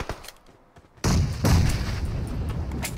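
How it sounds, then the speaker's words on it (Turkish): Bomb blasts in the PUBG Mobile battle game: a sudden loud boom lands after a quiet moment, followed by a second heavy blast and a sustained rumbling roar with scattered crackles. "Ha, patladıktan sonra ses geliyor ya o bomba."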